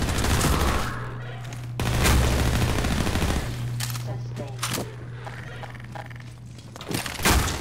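Gunfire in Half-Life 2: MMOD comes in several bursts of rapid shots, loud and close, with someone talking in between and over parts of it.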